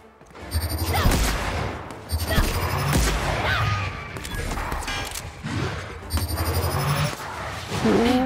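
Assault-weapon fire in the video game The Outer Worlds comes in repeated loud bursts of rapid shots with short pauses between them, set over game background sound.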